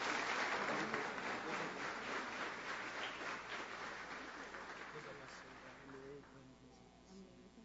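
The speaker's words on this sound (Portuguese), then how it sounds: "Uma salva de palmas, queridos," Congregation applause in a church service honors two members, a steady, sustained clapping that gradually fades as a voice speaks over it.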